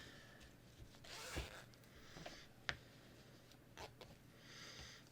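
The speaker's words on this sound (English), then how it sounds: "I'm going to unzip my zipper." Quiet, close sounds of an invisible zipper being unzipped: a few short scratchy pulls and clicks spaced irregularly over a faint steady hum.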